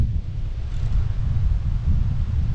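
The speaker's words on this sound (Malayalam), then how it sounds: "കാറ്റാണ് ഒരു രക്ഷയില്ലാത്ത കാറ്റും." Strong wind buffets the microphone at a lakeside tent campsite in Munnar, a continuous low rumbling roar that stays loud for the whole stretch with no voices.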